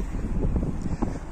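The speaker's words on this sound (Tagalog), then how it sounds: "Kasi mainit na yung panahon, malakas lang yung hangin." Strong, cold wind gusts past in the open on a sunny early-spring day after the snow has gone, a short burst of loud rushing that buffets the microphone.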